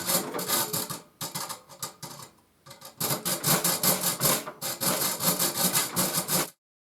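A hand saw cuts a piece of wood to length with fast, steady back-and-forth strokes. The sawing is loud and close, pauses briefly partway through, then resumes before stopping abruptly.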